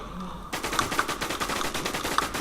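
Rapid automatic gunfire from the online survival shooter WarZ rattles in a dense, loud burst of overlapping shots after a brief quiet start, continuing steadily to the end.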